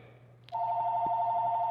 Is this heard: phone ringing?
yes